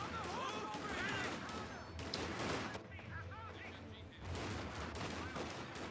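A busy battlefield in the WWII strategy game Company of Heroes 2, with machine gun and rifle squads exchanging dense, overlapping gunfire and impacts, a steady clatter that runs throughout under a commentator talking.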